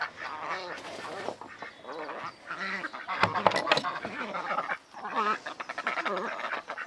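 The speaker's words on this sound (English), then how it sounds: "these are our runner ducks" Runner ducks, six of them in a cottage garden, quack loudly and close in overlapping bursts, with a brief flurry of noise midway and a person talking at times.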